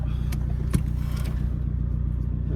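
A car driving along, heard from inside with a steady low engine drone and road rumble, plus a couple of brief rattling knocks near the start.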